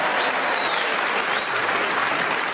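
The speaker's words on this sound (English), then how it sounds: "I don't know why you're applauding that" A live studio audience at a radio comedy panel game claps in steady, loud applause that fills the room evenly from start to finish, with no voices over it.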